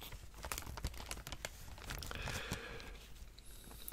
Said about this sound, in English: Mama Night Blossom loves the soft speaking, the crinkles, the tapping, and the keyboard sounds.